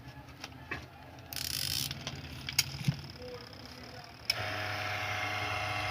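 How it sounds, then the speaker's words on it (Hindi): A Dawlance washing machine's mechanical timer being switched on, giving a few faint clicks and ratcheting ticks before a steadier hum starts, with light background noise. "इसका टाइमर ऑन करेंगे।"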